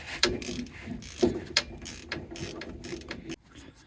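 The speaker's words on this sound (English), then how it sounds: "So just tightening them up here, and then these two bolt onto" A ratchet tightens bolts on the stabilizer bar of a Land Rover Series 2a, giving close, uneven clicking ratchet strokes with a few sharper metallic knocks.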